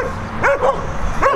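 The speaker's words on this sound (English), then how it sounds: "Those are crazy dogs." Several excited dogs bark and yip close by in short overlapping bursts, with a whimpering edge to some calls, outdoors with no talk over them.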